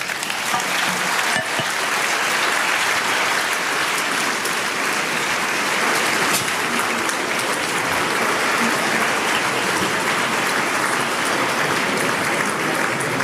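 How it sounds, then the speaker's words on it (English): An audience at a security conference in Munich breaks into sustained applause, a dense, even wash of clapping lasting over thirteen seconds with no speech. "Please, a hand of applause."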